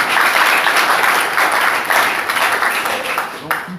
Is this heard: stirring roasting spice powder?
no